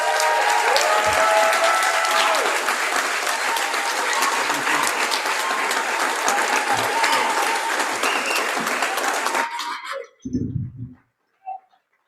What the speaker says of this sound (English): A second round of applause for Pananga.